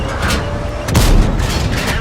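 A tank cannon shot slams into a WZ-111 in a tank battle video game, a heavy booming impact rising out of dense rumbling engine and battle noise, loud and close.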